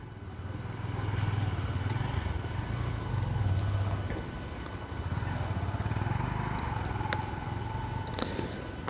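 A Bajaj Pulsar NS200 200cc motorcycle engine idles steadily with a low, even rumble that holds throughout, heard close and loud, with faint clicks now and then.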